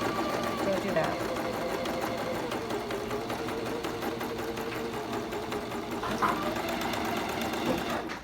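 A sewing machine stitches a princess seam at regular stitch length, a steady fast mechanical whir running continuously at moderate volume with a brief voice over it.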